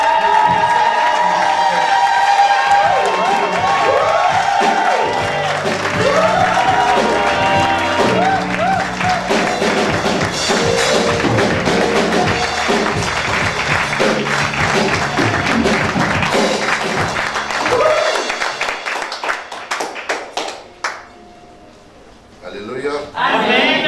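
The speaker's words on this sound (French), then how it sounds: "J'aimerais qu'on acclame l'envoyé spécial de Dieu." A church congregation cheers and applauds a preacher, loud crowd clapping and shouts mixed with music and voices that fade out near the end.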